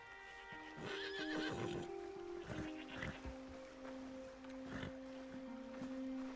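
A horse whinnies several times in Red Dead Redemption 2, with close, loud neighs rising over a steady tonal hum and ambient game sound, and no talk.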